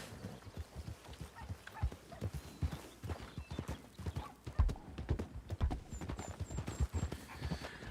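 A horse in the RanchRP role-play video game clip-clops along in an uneven, close rhythm of hoof strikes, with a brief whinny and some panting mixed in, and no talking.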